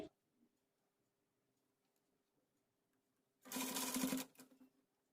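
A sewing machine stitches a strip onto an umbrella frock in one short burst of about a second, near and clear after a long quiet stretch.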